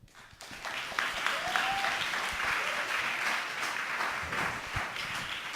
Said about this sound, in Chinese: 给他热烈掌声鼓励